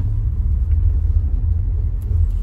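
A 1979 Series 3 Morris Marina being driven, its engine and road noise forming a steady low rumble, close and continuous throughout with no speech.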